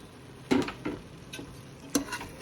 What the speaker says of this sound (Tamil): நல்லா கலந்து விட்டுப்போம்.